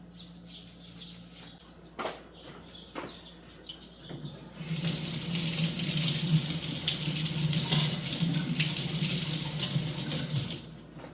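Tap water runs into a bowl to cool freshly boiled eggs, following a few clinks and handling sounds, then a steady close splashing stream that continues to the end, with faint birdsong in the background.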